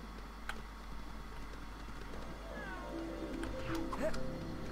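A cat in the Lego Harry Potter video game gives a short wavering meow after being shot, faint and brief over quiet game ambience and a soft tick.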